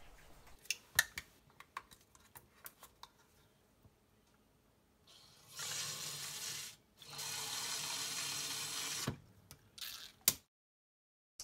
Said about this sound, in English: And the other one, we're going to fill with water.